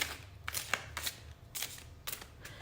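A large tarot card deck is shuffled by hand in a handful of quick, crisp riffling bursts separated by short pauses, close and moderately loud, with no talking.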